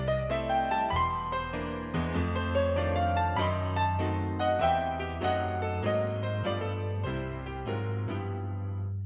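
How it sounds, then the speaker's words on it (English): A Lowrey Prestige organ playing its Nostalgia Piano voice, a bright old-time piano tone with a steady bass line under chordal melody; continuous, full and close, with no talking. "There's one other one that is quite nice, and it's called Nostalgia Piano."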